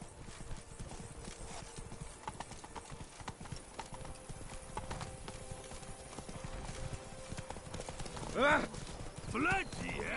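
A horse gallops in The Witcher 3: Blood and Wine, its rapid hoofbeats drumming close and steady, then a couple of short, strained snorts or whinnies burst out near the end over the game's ambience.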